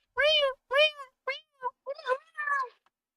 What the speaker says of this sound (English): he's meowing for free